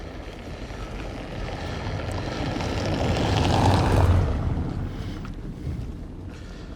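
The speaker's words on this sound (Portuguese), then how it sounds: "Subiu o drone um pouco mais." A camera drone climbs over a path beside residential condominiums, its broadband whirring rotor noise swelling louder mid-flight and then easing, mixed with wind buffeting the microphone and no talking.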